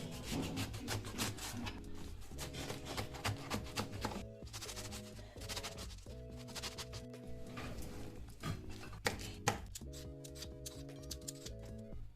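Knife chopping lettuce, cucumber, avocado and tomato on a board for a detox salad, quick irregular cutting taps repeating throughout, under steady background music.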